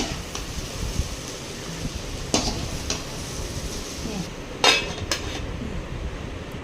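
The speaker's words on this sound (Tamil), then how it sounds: "ரைஸ் சேர்த்து மிக்ஸ் பண்ணி எடுத்துக்கலாம்" Carrot rice is stirred in a pan, a spoon scraping and knocking against the metal in scattered clinks and scrapes over a faint sizzle, with a couple of sharper clanks near the end.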